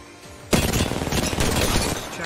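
Video game gunfire bursts in sharply after a brief quiet start and keeps up as dense, loud overlapping shots and rattling volleys to the end.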